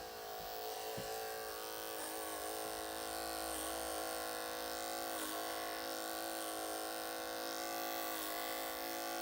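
Detachable blade hair clipper cutting hair during a high fade, a loud, steady close-up motor buzz lasting throughout with slight shifts in tone as the blade moves through the hair.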